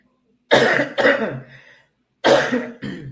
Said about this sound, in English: And I rebuke this stupid, disgusting cough.